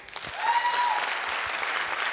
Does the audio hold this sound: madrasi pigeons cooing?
no